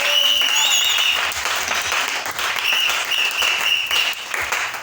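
A church congregation applauds and acclaims during a worship service: dense, sustained clapping fills the room for the whole stretch, loud and close, with a few raised voices and tones mixed into the crowd.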